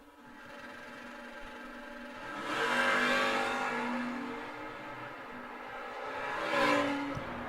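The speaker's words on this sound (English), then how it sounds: "Little bit of a head start going to the Camaro, and the big Dodge will try to run him down." At an old-time drag racing event, a Camaro and a big Dodge accelerate down the strip, engines swelling to a loud roar twice and then fading, heard from a distance.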